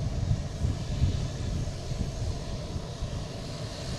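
Boutique Air aircraft engine running at Boston Logan airport, a steady low rumbling drone holding throughout with a broad wind-like hiss above it.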